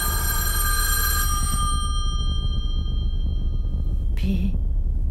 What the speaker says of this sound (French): Comment peut-on se permettre d'appeler à une heure pareille?